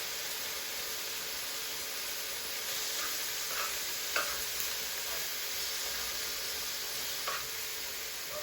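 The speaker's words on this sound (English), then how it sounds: "Then we give it a good stir" A sausage noodle mixture with soy sauce and beef seasoning is stirred in a hot pan, giving a continuous hissing sizzle broken by a few soft knocks from the utensil, with no voices.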